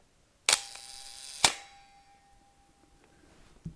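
Shutter of a Minolta SRT 101 film camera set to 1 second, giving two sharp, close mechanical clicks about a second apart, the opening snap and closing snap, with a faint ringing tail and quiet room otherwise.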